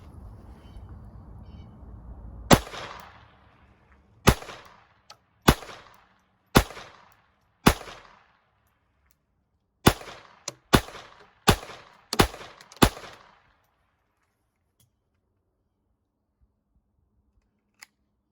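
A Glock 44 pistol fires Federal bulk hollow point rounds in ten sharp, loud shots, some spaced apart and some in quick succession, each followed by a brief ringing decay, then silence.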